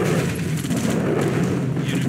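Heavy gunfire rattles continuously in a real-time strategy game battle, a dense, loud barrage of shots and booms with no pauses.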